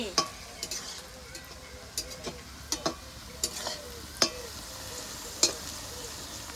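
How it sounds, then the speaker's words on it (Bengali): Onions fry in a pan for chicken pasta, a steady soft sizzle with a spoon scraping and tapping the pan at irregular intervals. "পেঁয়াজটা হালকা হালকা ভাজা হয়ে গেছে"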